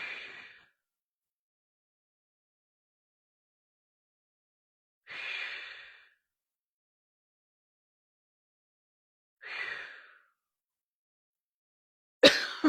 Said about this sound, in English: start by just taking a few deep breaths